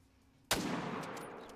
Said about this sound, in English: Quick shot and a complete miss. Wow. I just hear gunshots.